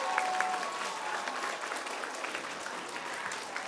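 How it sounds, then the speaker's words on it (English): A room of students and adults applauds at an elementary school Veterans Day event, a dense, steady clapping that holds evenly throughout without fading. "let's give one final round of applause."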